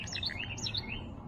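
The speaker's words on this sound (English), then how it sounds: "I hear you, bird." Small bird chirping in quick repeated tweets, fairly close and clear, over a low steady background hum in a woodworking setting where a bowl is being carved.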